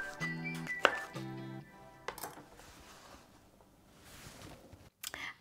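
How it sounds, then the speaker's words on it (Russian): A knife cuts an unpeeled pear into pieces on a board, giving a few close, crisp chops and clinks spread across the span with quieter gaps between. "Грушу не чищу, только вырезаю семена. Нарезаю кусочками."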